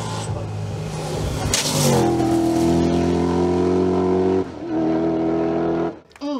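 A Volvo TC10 race car engine roars loudly nearby at a hill climb, revving up through rising gears before easing off, with a commentator's voice faintly in the background.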